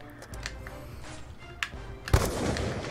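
Gunfire from a trick shot in the Call of Duty video game, a sharp burst near the two-second mark that leaves a loud, dense rumble afterward, with a few smaller pops before it.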